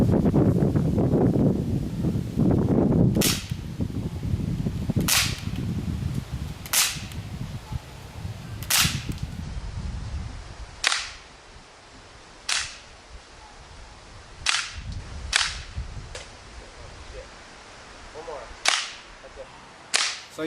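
Gamba air rifle fired at a durable target head: about a dozen sharp, loud cracks at irregular intervals of roughly one to two seconds, with wind and rustling noise underneath during the first half.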